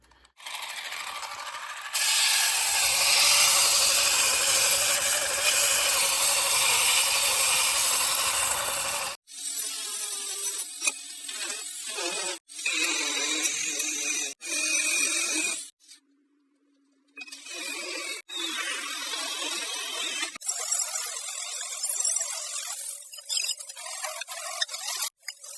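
A power sander works on the frame of a Schwinn OCC Stingray bicycle: a loud, steady abrasive whir for the first stretch, then choppier bursts of grinding broken by short pauses, heard close with no talking.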